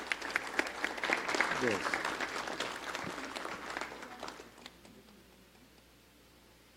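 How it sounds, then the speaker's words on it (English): A debate audience applauds both competing schools at a national debate in Belize City, loud sustained clapping that fades out toward the end, with a brief spoken word near the start. "Could I just ask you then to give both schools a round of applause?"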